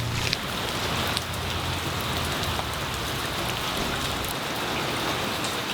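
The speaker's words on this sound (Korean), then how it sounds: "굵은 빗방울이 쏟아지는 날에도" Heavy rain pours down steadily, a dense continuous hiss of drops drumming on surfaces throughout, with no voices.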